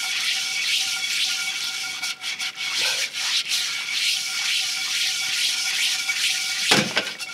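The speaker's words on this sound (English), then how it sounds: "I'm going to give it just a little bit more scrubbing" Steady, close scrubbing of a cast iron skillet with a little water at a campsite, a continuous rough rubbing that runs almost unbroken with a couple of brief pauses and a knock near the end.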